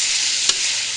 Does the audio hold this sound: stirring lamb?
yes